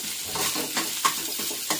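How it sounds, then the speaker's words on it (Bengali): Potato pieces sizzle in a pan in a small home kitchen, with a steady hiss broken by several sharp scrapes and clatters of stirring, close and without talk. "মেয়ের জন্য একটু আলু ভাজা করে নিলাম"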